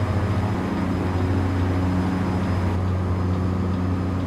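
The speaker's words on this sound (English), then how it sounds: "This plane's still a little bit loud." Steady drone of an aircraft engine from the X-Plane 11 flight simulator, EMB-110 or A330, holding a constant loud hum with a thin high whine, no talking over it.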